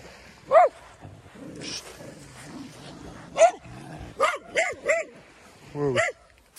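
Dogs barking on Mae Nam Beach, Koh Samui: sharp barks come in scattered bursts, a single one, then a quick cluster of three and a final yelping run, fairly close over quiet background.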